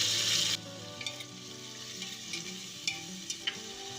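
Chopped potatoes, capsicum, tomato and green chillies fry in a pan for masala rice, opening with a sharp hiss as they go in and then settling to a quieter sizzle with scattered stirring clicks.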